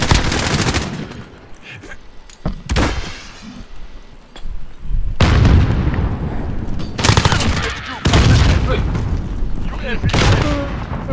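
Heavy gunfire and booming blasts in Call of Duty Modern Warfare, a Headquarters match on a backlot map, with loud bursts and explosions in separate clusters and players chattering between them.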